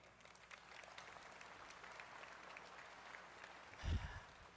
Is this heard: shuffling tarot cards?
no